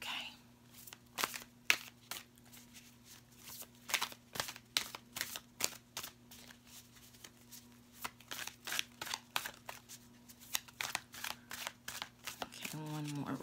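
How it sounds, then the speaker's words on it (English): Tarot cards being rifle shuffled, a run of quick crisp riffling bursts in a quiet room, close and fairly soft, with a final cascading riffle at the end. "One more rifle shuffle and then we're good to go."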